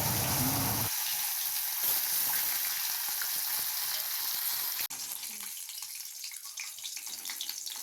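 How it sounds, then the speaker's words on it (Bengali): Fish rubbed with salt and turmeric frying in hot oil in a kadai, a loud steady sizzle up close that changes abruptly partway through and continues, with no talking. "কড়াইয়ে তেল গরম করে কেটে ধুয়ে নুন হলুদ মাখানো মাছগুলো কড়াইয়ে এপিটোপিট করে লাল লাল করে ভেজে"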